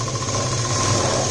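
A sewing machine runs steadily, stitching a seam in fabric for a neckline, with a brief, even mechanical whir close by and no talk.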